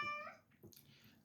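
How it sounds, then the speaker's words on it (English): A cat gives a brief faint meow, followed by soft rustling and low background noise, distant and quiet. "Oh, the cats are back at it."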